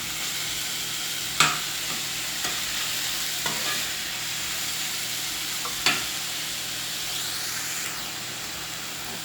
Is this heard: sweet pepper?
yes